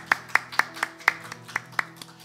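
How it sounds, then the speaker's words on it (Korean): A church congregation claps in praise with about nine distinct, evenly spaced claps at a brisk steady rhythm, close and clear over a faint low background hum. "우리의 생명, 우리의 소망 되신 주님께만 우리의 마음을 담아 감사와 찬양의 박수를 드렸으면 좋겠습니다"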